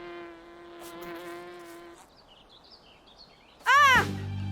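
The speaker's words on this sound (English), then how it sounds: "It's just a wasp." A cartoon wasp buzzes with a steady, droning hum for about two seconds, then falls quiet before a sudden loud, rising cry near the end.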